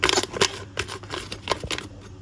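Economical anise cake batter is stirred by hand after baking powder is added. It gives a run of close, rhythmic scraping strokes, each a short burst, with no talking.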